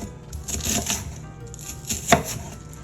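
Knife chopping barbecued pork on a cutting board, a run of quick rhythmic chops with a sharper, louder knock near the end, close and clear with no talk.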